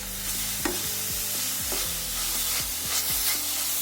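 Grated carrots stirred and fried in a pan for gajar halwa, with a steady sizzle under repeated scraping strokes of a spoon, close and fairly even throughout.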